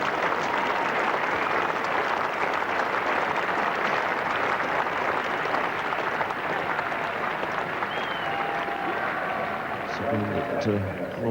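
Sustained applause from a cricket crowd at a 1985 England versus Australia Test after a single brings up 250, a dense, even patter of clapping throughout, with a commentator's voice coming in near the end.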